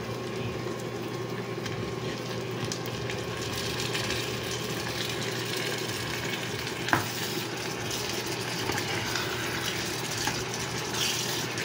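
Onions softening in a pan for Filipino ginisang monggo with pork chicharon, giving a steady, low sizzle with occasional stirring scrapes and one sharp clink around the midpoint, no voices.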